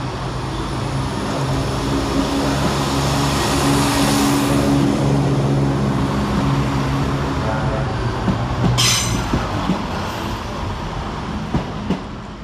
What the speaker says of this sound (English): Departing next for cross country is 170637, working the 1441 service to Birmingham New Street.